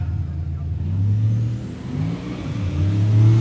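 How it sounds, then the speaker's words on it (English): A 1965 Chevrolet Malibu launches at a drag strip with some tire spin, a loud low engine roar rising and wavering over three seconds with no voices. "See a little bit of tire spin out of the Malibu."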